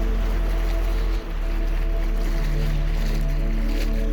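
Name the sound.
ocean waves at a beach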